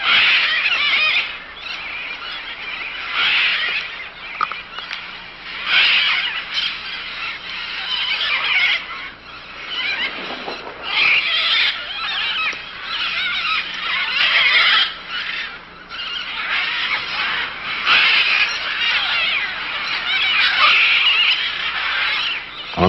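Macaws and parrots squawk and screech together at a clay lick in the Manu rainforest, a dense, continuous chorus of harsh calls rising and falling in bursts, some close and loud, others farther off.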